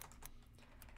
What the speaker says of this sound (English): Then you type into the search bar Submersed VR